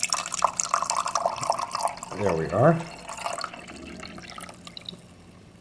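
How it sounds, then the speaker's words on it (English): Water pours into the reservoir of a hotel-room coffee maker in one brief splash that rises in pitch as it fills, then goes quiet; someone speaks briefly before it. "Now we have to put water in. So we'll pour that in."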